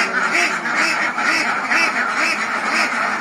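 A flock of ducks on a farm keeps up continuous overlapping quacking, loud and close, with no pause across the whole stretch.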